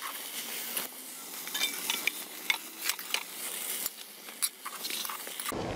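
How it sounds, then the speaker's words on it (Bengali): Chopped bottle gourd greens are stirred into potatoes and eggplant in a wok, giving soft scraping and rustling with scattered light clicks of the spatula, close and fairly quiet, no talk. "আপনাদেরকে শাকগুলো আস্তে আস্তে করে দিয়ে এইভাবে মিশিয়ে নিতে হবে আলু বেগুনের সাথে"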